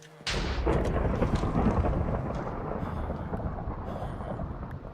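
A sudden thunderclap cracks in a Minecraft thunderstorm, then a long, loud rumbling roll slowly fades over several seconds, with no talking.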